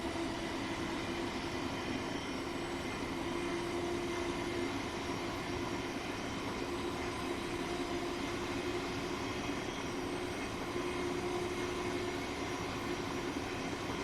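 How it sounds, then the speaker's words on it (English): A class 700/0 electric train in Train Sim World 3 runs steadily with a continuous rumbling drone and a prominent low motor tone, heard from outside at moderate, unchanging level with no talk. "I'll say the reason why I'm hanging outside, guys, is just so I can get the noises of the train for you."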